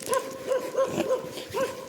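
A dog on a mountain trek toward a glacier gives a string of short, moderate whimpering yips and soft barks in a quick rhythm, fairly close by.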